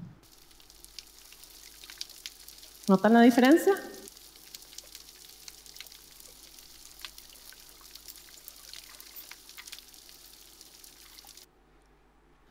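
Sparse, faint crackling and clicking from a degraded coral reef, recorded underwater, runs quietly throughout, with a brief spoken phrase cutting in near the start.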